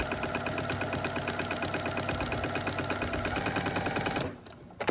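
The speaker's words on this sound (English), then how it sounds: "I'm sewing here on the line between" A sewing machine stitches quilt block pieces along a line in a fast, steady mechanical clatter close by, then stops abruptly near the end.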